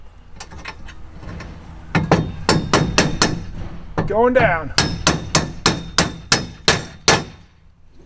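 A hammer strikes metal repeatedly as a truck bed kayak rack is knocked into place, about a dozen sharp, loud clanging whacks in uneven bursts, with a short spoken remark in the middle.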